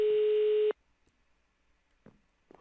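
A telephone tone sounds once, a loud steady beep lasting under a second while calling the police in Minecraft, followed by near silence and two soft clicks.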